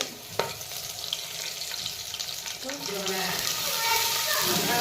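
Biryani spices and curry leaves frying in hot oil for a home chicken biryani make a steady, close sizzle, with a sharp crackle early on and a fuller spatter toward the end.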